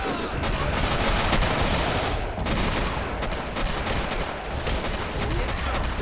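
Dense gunfire from rifles and machine guns in the Men of War: Assault Squad 2 World War II battle at Iwo Jima, a continuous loud crackle of rapid shots with heavier booms mixed in, and someone talking over it.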